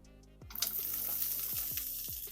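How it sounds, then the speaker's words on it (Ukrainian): Chopped carrots frying in hot oil in a pan, a soft steady sizzle with a few clinks of a utensil against the pan, fairly quiet and without talk. "Знову на розігріту сковорідку додаємо олії і вже обсмажуємо нарізану моркву."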